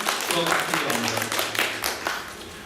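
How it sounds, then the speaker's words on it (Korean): A church worship congregation keeps clapping in a broad, sustained wash of applause, with a voice speaking over it. "함께 영광을 돌리는 그런 박수입니다"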